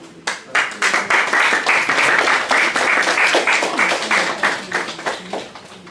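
A room full of people applauds at a memorandum signing, dense, loud and continuous clapping for nearly six seconds with no talking over it.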